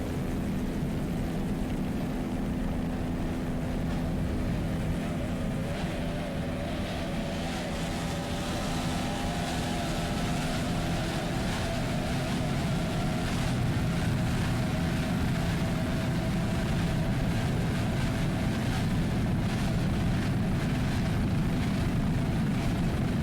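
Offshore racing powerboats running Mercury 2.5 EFI outboards, a steady distant engine drone with wind and water wash that holds for the whole stretch, with no talking.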